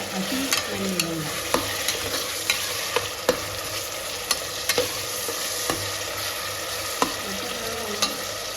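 Ginger garlic paste and chopped tomato fry in a pan for a simple chicken biryani, giving a continuous oily sizzle broken by regular scraping knocks of a spoon stirring against the pan.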